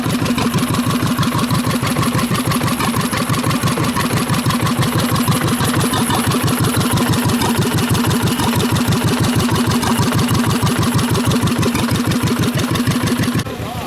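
An antique stationary engine with a centrifugal clutch runs at the 2019 Georgian Bay Steam Show. It gives a loud, steady chugging beat with evenly spaced firing pulses and continues without a break, alone and close.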